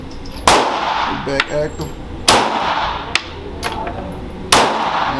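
Glock pistols, a Glock 23 and a Glock 19, fire at a shooting range. Three sharp, loud reports ring out a couple of seconds apart, with lighter metallic clicks between them, while someone talks briefly.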